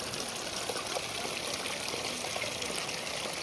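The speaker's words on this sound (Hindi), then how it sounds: "ये है हमारे टेंट का एकमात्र पानी का सोर्स।" Glacier meltwater stream running past a high mountain expedition camp, a close, steady rushing trickle that fills the whole stretch without pause, with no voices over it.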